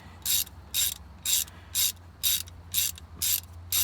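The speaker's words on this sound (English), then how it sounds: "I gotta take this 10mm out real quick" A ratchet works a 10mm bolt out of a car starter on a Ford: eight crisp bursts of clicking, evenly spaced and close up, with near silence between them.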